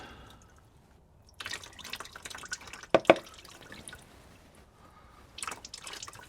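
Transmission fluid drains from a 2017 Lexus LX570, a Toyota Land Cruiser 200 series, at 86,700 miles. It comes as scattered drips and splashes into a pan, faint at first, then a few sharper plinks and brief trickles.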